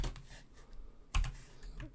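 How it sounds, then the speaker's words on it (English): Fingers typing on a computer keyboard while running PyTorch code cells, a close steady patter of key clicks with one heavier keystroke midway, no talk. "I'm using Control plus Enter to run the cell without adding a new cell."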